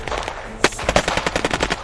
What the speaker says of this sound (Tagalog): putok ulit ng baril.